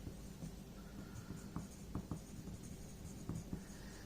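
A pen or pencil writing by hand on paper while drawing a force triangle to scale for a slope stability calculation, with scattered soft scratchy strokes and light taps, close and quiet, no talking.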